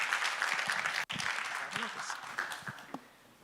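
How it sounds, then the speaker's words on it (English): Conference audience applause for a speaker, fairly faint and distant, fading out toward the end as a voice begins over it. "Warm round of applause, please."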